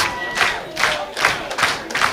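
A wrestling crowd at a Limitless Wrestling event roars in rhythmic waves, the cheers swelling and easing about five times in steady pulses, loud and close.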